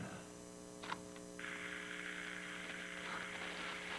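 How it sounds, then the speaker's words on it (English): Steady broadband hiss of radio static with a constant low hum, a couple of brief crackles early on before the sizzle swells and holds. "A sizzle and a crackling bit of static"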